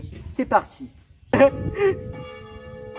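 Church bells ring in the French village of Vic-la-Gardiole, a clear struck tone with a long, steady ringing decay, heard close while people speak briefly before and over it.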